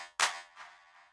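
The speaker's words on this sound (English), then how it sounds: "added some reverb to make this clap sound like this" Single electronic clap sample spread wide in stereo with reverb, a sharp bright hit followed by a long washy decay.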